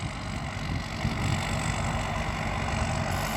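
A tractor engine runs steadily nearby, a continuous low diesel rumble with no pauses.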